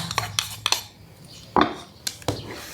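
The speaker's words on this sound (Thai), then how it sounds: "เดี๋ยวเราจะผสมแป้ง แป้งสองอย่าง ใส่เข้ารวมกันเลยนะคะ แป้งทอดกรอบกับแป้งปงมันนะคะ" Crispy frying flour and tapioca starch being mixed in a bowl, heard as a handful of sharp clinks and scrapes of a utensil against the bowl, spaced irregularly over a quiet background.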